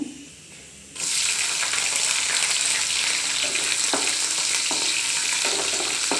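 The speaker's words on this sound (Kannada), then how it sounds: "ಈಗ ಈರುಳ್ಳಿ ಹಾಕ್ತಾಯಿದ್ದೀನಿ" Chopped onions drop into hot oil already tempered with chana dal, curry leaves, mustard seeds and cumin; after a brief quiet moment a loud, close, bright sizzle bursts in and holds steady, with a few light stirring knocks.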